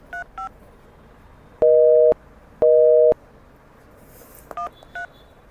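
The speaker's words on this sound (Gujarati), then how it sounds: "The number you are calling is either switched off or not reachable." A mobile call fails to connect: brief DTMF keypad tones, then two loud steady busy-style beeps, followed by more dial tones, with no talking throughout.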